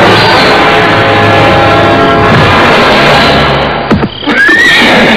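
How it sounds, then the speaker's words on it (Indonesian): Horse neighing and galloping as a sound effect in an Indonesian radio drama: a steady rumble of hooves underneath and a loud, rising whinny near the end, with no talking. "Aku mendengar derap kuda menuju kemari."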